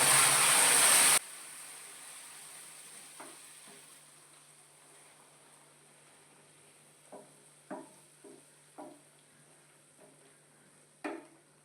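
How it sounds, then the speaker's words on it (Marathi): Hot water and milk hit semolina roasted in ghee, a loud sizzling hiss that lasts about a second and then cuts off, followed by a few faint clinks of a pan or spoon. "पाणी आणि दूध घेतलेलं गरम करून घेतलेलं आहे ते थोडं थोडं ओतून घ्यायचं त्यामध्ये"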